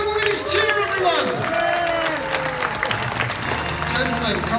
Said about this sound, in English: Give him a big Global Village cheer, everyone!